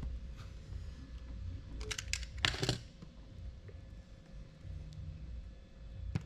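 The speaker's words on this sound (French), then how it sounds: "je prends mon cutter, je viens dénuder" A cutter knife strips the insulation from a wire during a lithium battery motor socket installation, producing a brief burst of close, crisp clicks and scraping over a quiet workshop background.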